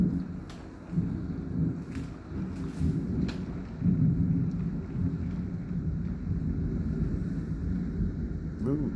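Low rumbling thunder rolls through a strong storm in Coxs Creek, Kentucky, with heavy wind buffeting the microphone and rain noise, a continuous loud roar for several seconds.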